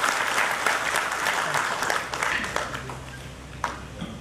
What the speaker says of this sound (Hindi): तालियों के साथ अभिनंदन करिए,